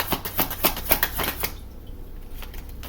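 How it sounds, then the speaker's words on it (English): A quick burst of riffling tarot card shuffles, several rapid flutters in close succession, followed by quiet. "shuffle again"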